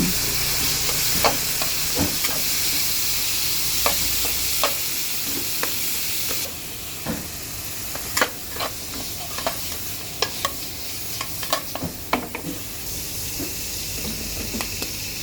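Pork stir-fries in a pan for a gourd-and-egg dish, with a steady loud sizzle and hiss under sharp, irregular clacks of the spatula against the pan and no talking.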